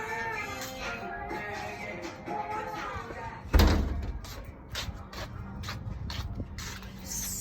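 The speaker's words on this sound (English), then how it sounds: "let me shut this door" An indoor door swings shut with a single sharp thump midway, preceded and followed by a voice nearby.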